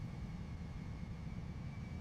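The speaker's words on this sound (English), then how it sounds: "Over the Andaman Sea, the aircraft continued flying" Steady distant drone of an airliner's engines in flight over the Andaman Sea, a low continuous rumble with a faint high whine, no voices.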